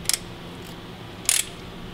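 A P-pump barred over by hand to break it free from the motor gives two sharp metallic click-pops about a second apart, close up against quiet background.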